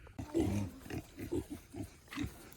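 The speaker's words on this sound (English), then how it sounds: "Oh, pigs!" Pigs grunt close by in a quick series of short, low snorts and grunts, with a few higher squeaky notes mixed in.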